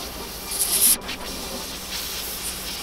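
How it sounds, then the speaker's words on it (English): A spray can hisses in a short burst, then fainter intermittent spritzes follow over a quiet background. "I'm gonna spray until it's right."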